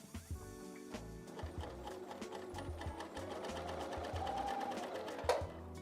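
A coverstitch sewing machine with a hemmer attachment runs steadily while stitching a hem, producing a fast, even mechanical whir with rhythmic needle ticking, close and moderately quiet, with no talking.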